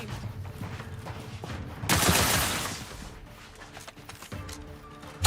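Gunfire erupts in the video game Outer Worlds 2 as a loud, dense burst of shots midway, set against ongoing clattering combat noise and a low rumble.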